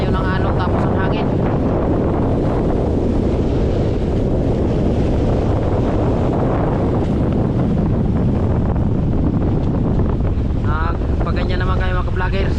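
Strong wind and rough waves on a small boat far out on the Pacific off the Philippines, a loud continuous roar of gusting wind buffeting the microphone and water washing against the hull, with faint voices coming through at times.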